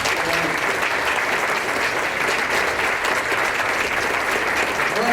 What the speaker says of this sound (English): how about some applause for the Rotary Club volunteers who are not on the stage